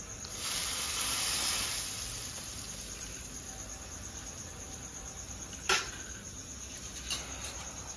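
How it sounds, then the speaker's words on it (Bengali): Hot mustard oil is poured onto a paneer and chicken mixture, giving a soft hissing sizzle that swells for a second or two and then fades into quiet background hiss, with a couple of faint clinks later. "গরম করে সর্ষের তেলটা দিয়ে দিচ্ছি"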